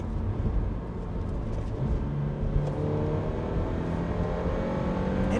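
A 2022 Toyota GR86 / Subaru BRZ with an APEX'i RS Evo Extreme catback exhaust gives a deep, steady exhaust drone at a moderate engine speed, fairly close and continuous, with no voices.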